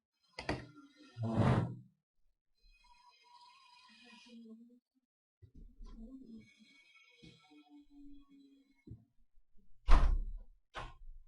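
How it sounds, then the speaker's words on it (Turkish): A door is pulled shut indoors, with a few muffled thuds and knocks scattered between quiet stretches and brief talk, while construction noise goes on outside. "ben şuraya girip bir kapıyı kapatmak istiyorum"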